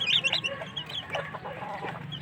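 A hen in a cage clucks softly and repeatedly after laying an egg, with short, uneven calls at a modest distance.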